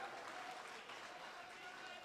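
Applause at an Urdu mushaira poetry gathering in Azamgarh, a steady dense wash of clapping from the audience lasting the whole moment at even loudness.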